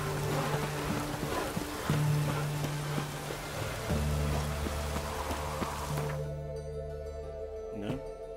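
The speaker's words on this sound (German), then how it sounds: "Wieder mal Regen." Rain in The Witcher 3, a dense steady hiss of falling water with low sustained hum tones underneath, thinning out toward the end; no talking.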